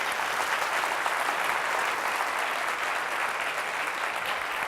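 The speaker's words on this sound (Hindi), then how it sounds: "जोरदार तालियों से खुदा के नाम पे दराज।" Congregation clapping during a sermon, an even, moderately loud spread of applause holding steady throughout.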